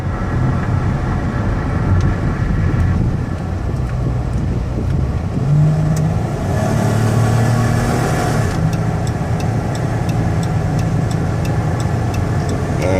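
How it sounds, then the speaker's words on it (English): A 2012 Dodge Caravan SXT wheelchair van with 59k miles cruising at highway speed, its engine droning steadily under road and wind noise, with low tones shifting partway through and no talking. "get them out on the highway so you can hear the engine run, the transmission shift"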